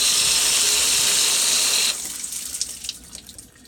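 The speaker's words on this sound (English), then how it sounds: "you may be able to hear water going through." Water runs through an iron filter tank with a loud steady rushing hiss that cuts off abruptly midway, leaving faint drips and trickles.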